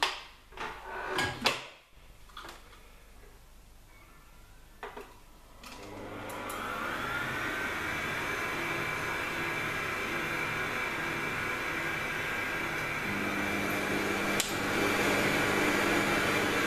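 After a few clicks and knocks, a kitchen cooking robot starts up at 100 degrees on minimum speed while cooking chorizo, giving off a steady whirring, fan-like hum close by that runs continuously to the end.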